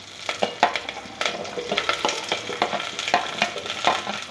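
Chilli pieces sizzling and frying in a pan with sliced onions for Telugu-style dal rasam, a steady crackling hiss broken by stirring scrapes, close and continuous with no talking.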